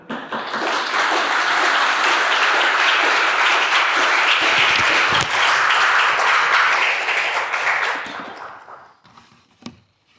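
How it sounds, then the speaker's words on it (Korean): Church congregation giving a loud welcoming round of applause, sustained dense clapping that swells and holds for several seconds before tapering off to a few last claps. "큰 박수로 환영할까요?"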